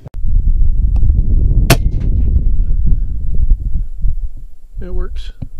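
FX Impact M3 .25 air rifle firing a 29.5 grain Nielsen slug into a ground squirrel outdoors, a single sharp crack and impact early on, amid steady background noise with voices nearby.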